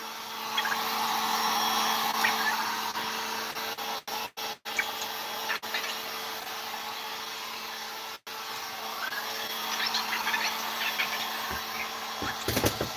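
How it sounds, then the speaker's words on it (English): A heat gun blows hot air onto an RC truck's skid plate, a steady broadband whoosh that runs continuously throughout, with a few brief dropouts as it cuts in and out near the middle. "I'll put this heat gun right down to it"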